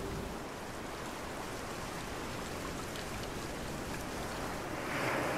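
Sea surf washes continuously onto the shore of Latvia's Kurzeme coast, a broad steady roar of breaking water that swells slightly louder near the end, with no voices.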